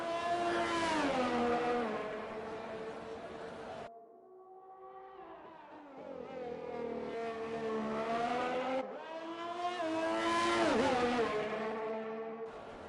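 An Alfa Romeo race car on a timed lap in a racing video game at the Australian GP, its engine screaming up through the gears with a sharp drop at a shift, then climbing again, loud and continuous.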